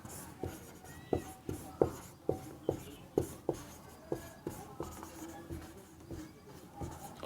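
Chalk tapping and scraping on a board during a physics lesson on light, in a quick steady rhythm of sharp strokes, close and fairly faint.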